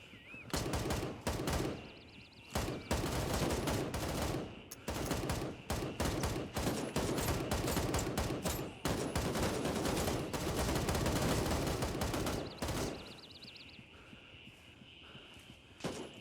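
Rapid automatic gunfire in the video game Gray Zone Warfare, dense bursts of shots crackling one after another for several seconds, then tapering into scattered shots and quieter background noise.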